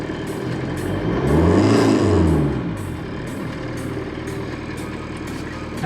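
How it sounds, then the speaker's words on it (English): A VW T4 pop-top campervan's turbo diesel engine revs up from idle, rising to a loud peak and falling back to a steady idle, heard close by with no talking. "It won't boost that much just by revving it."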